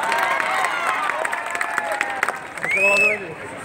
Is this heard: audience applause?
yes